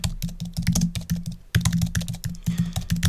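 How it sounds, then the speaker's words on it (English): Fast, continuous typing on a computer keyboard, close up, with a dense run of key clicks and one brief pause midway. "typing too fast while I'm speaking"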